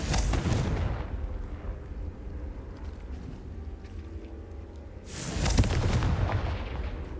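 Two deep booming blasts from a Confringo fire spell in Hogwarts Legacy, one at the start and one around the five-second mark. Each blast rumbles loudly and fades out, with quieter game ambience in between.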